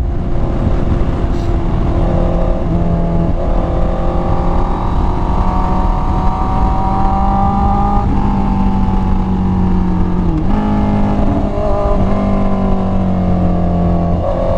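A Honda CBR 650R motorcycle engine runs loud and steady under a rider, its pitch rising and falling through gear changes and throttle shifts on a mountain road, with wind roar throughout.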